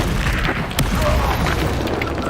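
A Confringo spell blast in the Hogwarts Legacy video game, a loud booming burst within a dense, continuous wash of combat noise, with a voice faintly mixed in.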